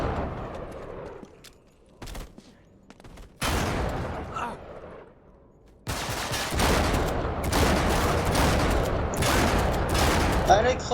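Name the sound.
gunfire in the video game Uncharted 3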